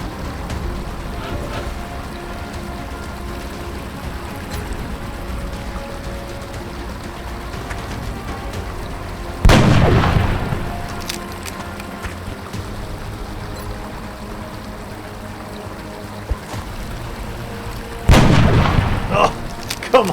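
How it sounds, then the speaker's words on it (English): Incoming enemy artillery in the video game XCOM Long War: two heavy blasts land about nine seconds apart over a constant rain-like background hiss. "Incoming fire!"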